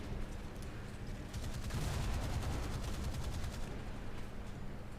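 Naval gun fire in the War Thunder video game, a dense rumbling barrage of rapid reports that swells in the middle and then settles into a steady low roar.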